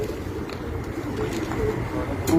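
A rooftop pigeon coos softly amid low background rumble, a few soft low calls close by but partly masked.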